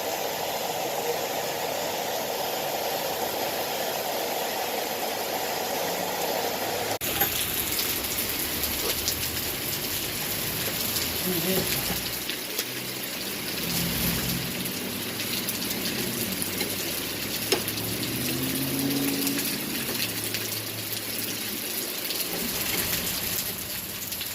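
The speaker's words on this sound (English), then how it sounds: "Oh man, that rain shifts directions, didn't it?" Heavy rain falling around a camper, a dense continuous hiss and patter that is loud and steady throughout, with faint voices underneath.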